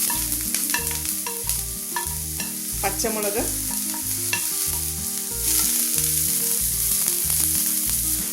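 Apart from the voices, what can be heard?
onion and green chili sautéing in coconut oil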